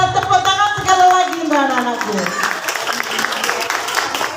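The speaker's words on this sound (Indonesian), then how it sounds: "Tepuk tangan sekali lagi" Applause at a school art performance for young children, clapping rising under loud speech and children's voices, then continuing as a dense patter.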